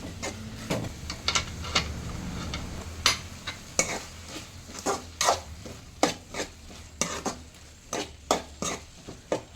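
Drumstick stir-fry with curry leaves stirred in a pan, a low sizzle beneath a run of regular sharp spatula scrapes and taps against the metal, close and distinct.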